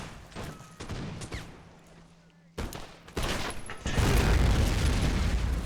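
Musket fire in a Born in the Fire: America mod battle, a video game with redcoats on a beach: scattered booming shots at first, then after a brief gap a dense, continuous roar of volleys and explosions.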